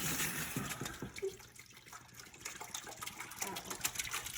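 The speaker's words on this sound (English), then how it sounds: "Add 500 ml milk" Milk, 500 ml, poured into a pudding mix, a close, gurgling liquid stream with soft splashing throughout, fairly quiet.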